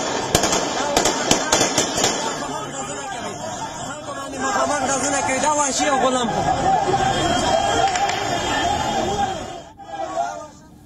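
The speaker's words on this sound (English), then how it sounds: "In response, the Taliban opened fire." Taliban gunfire at a crowd in Khost, Afghanistan, during a flag protest: several sharp cracks in the opening seconds, then loud crowd shouting and commotion that continues throughout.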